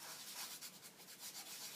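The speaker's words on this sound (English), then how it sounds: "here's Stampin' Up! Sanding pad, sanding block. And you can just rub that over." Stampin' Up! sanding block rubbed lightly back and forth over a new rubber stamp, a soft, close, rhythmic scratchy rasp repeated in quick strokes with no talking.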